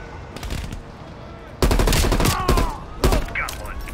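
Bursts of automatic gunfire from the Call of Duty: Black Ops Cold War video game, loud rapid rattling volleys in several clusters, with game sound effects around them.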